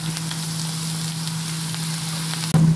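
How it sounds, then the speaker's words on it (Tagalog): Soy sauce hits onions in a hot frying pan, making a loud, continuous sizzle with a steady hum beneath and a sharp clatter near the end; no one speaks. "pwede na tayo maglagay ng soy sauce"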